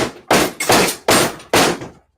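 Five sharp, loud hammer blows land close by at an uneven pace, each a hard smack with a brief ring that dies away before the next, followed by silence.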